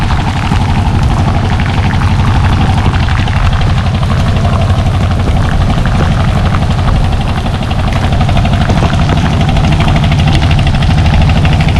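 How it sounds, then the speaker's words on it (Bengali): A fishing trawler's engine runs at Kuakata in the rain. It gives a loud, steady, close chugging drone that carries on without a break, with no voices over it. "মাছ ধরার ট্রলার।"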